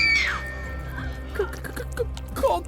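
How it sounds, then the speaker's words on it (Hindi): A woman's frightened scream in a Hindi horror story, a sharp high shriek at the start that fades quickly, followed by faint scattered sounds over a low steady background drone. "मगर जैसे ही वो शख्स निधि की तरफ मुड़ा तो निधि जोर से चीख पड़ी।"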